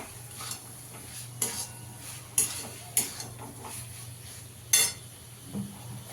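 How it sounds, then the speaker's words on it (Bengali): A spoon scrapes and stirs fried teasel gourd (kakrol) into cooked spice paste with ground peanut in a pan, giving a few sharp knocks against the pan over a soft steady sizzle. "কাঁকরোলটা দিয়ে ভালো করে মিশিয়ে নেব।"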